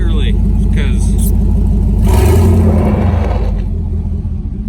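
A Jeep Wrangler with a Vortec engine drives up a steep driveway, its low engine rumble steady and loud throughout, swelling briefly midway before easing off.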